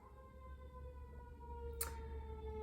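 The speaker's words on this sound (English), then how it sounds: "There's an ambulance." An ambulance siren sounds faint and distant as a steady wailing tone held over a low, constant background rumble.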